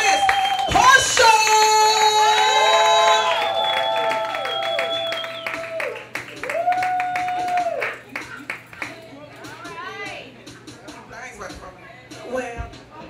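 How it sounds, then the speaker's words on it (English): An audience claps and cheers as a comedian comes onstage at a comedy show, a loud burst of applause that thins over several seconds beneath an amplified voice and music. "everybody in the building start clapping, start clapping, start clapping, start clapping, and give it up for Miss Portia!"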